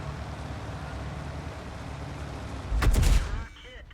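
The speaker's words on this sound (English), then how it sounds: "we're getting fired on by that DW2 and a Panzer 4D." Gunfire from enemy tanks, a DW2 and a Panzer 4D, in a World War II tank video game, a brief loud burst of shots near the end over a steady low engine rumble.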